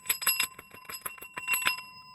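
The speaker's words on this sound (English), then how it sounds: "Let me hit my bell." A small desk bell, rung by a talk-show host, sounds in quick repeated metallic dings, about a dozen strikes in an uneven rapid rhythm, close and clear with sustained ringing tones and no talking.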